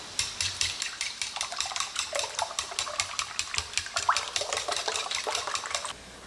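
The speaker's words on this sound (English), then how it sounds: "I am going to add a little bit of milk, and we're going to whisk this together" Eggs with milk and pepper beaten by hand with a whisk in a bowl, a brisk run of rapid rhythmic clinking strokes, close and steady, stopping near the end.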